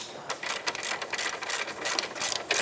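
Ratchet working a caliper bracket bolt on a 2008-2012 Jeep Liberty during parking brake shoe replacement, a fast continuous run of close, crisp pawl clicks lasting the whole stretch with no speech.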